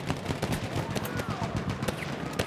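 Continuous gunfire in the Battlefield 1 video game, a dense rattle of rapid shots like a machine gun, fairly steady throughout with occasional louder cracks, set against a noisy battle background.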